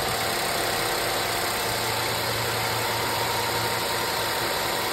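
A car engine idles steadily nearby, a low continuous hum with a faint vibrating rumble and no voices.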